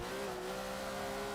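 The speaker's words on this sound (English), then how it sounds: "that's a handbrake turn for you" A race car in Forza 7 pulls a handbrake turn, its engine droning in a steady, sustained tone throughout with no other sounds.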